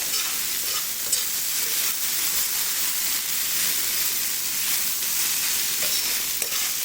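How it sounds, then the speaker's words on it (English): Soy sauce fried rice frying in a hot pan, giving a loud continuous sizzle and steamy hiss that holds steady and close throughout, with faint stirring scrapes underneath. "So we're gonna let this rice fry a little bit."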